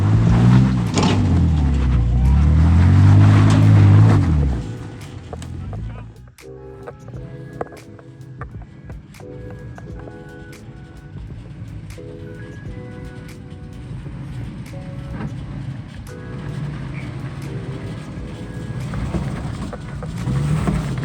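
Off-road vehicle engine revving hard as it climbs a rocky mountain trail, a loud rising and falling roar up front that settles into a lower steady drone with scattered knocks and clatter.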